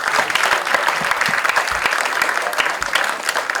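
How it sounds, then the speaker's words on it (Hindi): Loud, steady applause from the audience at a Hindi film trailer launch event, a dense crowd of clapping hands continuing for several seconds without a break. "जोरदार तालियां हो जाए।"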